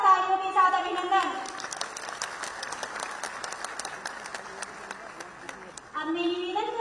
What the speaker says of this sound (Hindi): एक बार जोरदार तालियों के साथ अभिनंदन।